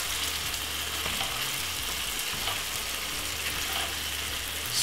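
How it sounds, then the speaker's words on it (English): Corned beef frying in a pot as it is broken up, a steady close sizzle with faint stirring scrapes, continuous and without talk. "So basically I'm gonna pop that corned beef straight inside of it like this. Break up the corned beef."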